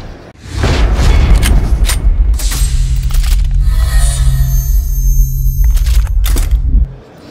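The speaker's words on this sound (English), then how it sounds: "Insert an explosion. Like the brain exploder explosion." A loud, deep explosion sound effect booms and rumbles continuously for several seconds, then cuts off abruptly.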